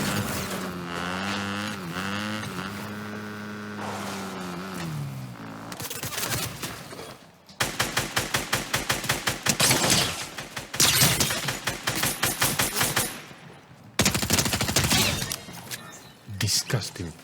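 SMG gunfire in a first-person shooter game, rapid automatic bursts that repeat in several loud stretches with short breaks, following a passage of music at the start.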